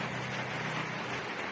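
Heavy rain pouring down in a dense, steady hiss with a constant drumming texture, loud and continuous throughout with no voices.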